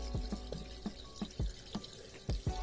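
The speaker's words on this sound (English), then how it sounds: "you can hear the water coming down." Water drips and splashes from a disassembled basement sewer line pipe in an irregular series, about eight distinct plops over a steady low background rumble, close by and fairly loud.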